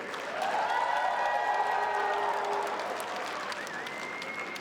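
Audience applause and cheering at a Lunar New Year community gala, a sustained wash of clapping with a few whoops and shouts that swells and then eases slightly toward the end.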